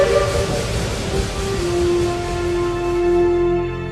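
A steam train whistle sounds loud and sustained, with several layered tones that waver slightly over a low rumble of the locomotive before fading near the end.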